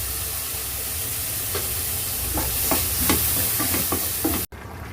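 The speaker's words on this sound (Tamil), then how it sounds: "இப்போ நல்லா குழம்பு சுண்டி வருது" Tamarind vathakuzhambu gravy simmers and thickens in a pan with a constant bubbling hiss, then a run of scraping stirs near the end before the sound cuts off abruptly.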